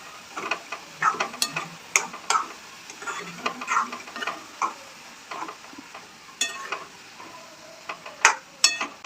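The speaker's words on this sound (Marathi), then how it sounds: "अंडी टाकून छान प्रकारे मिक्स करून घेऊया सारखं त्याला फिरवत राहायचं नाही तर खाली जळेल" Egg and fenugreek leaves being stirred in a pan, a spatula scraping and clicking against the metal in short irregular strokes over a low sizzle, no voices present.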